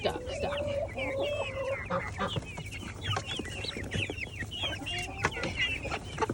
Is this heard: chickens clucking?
yes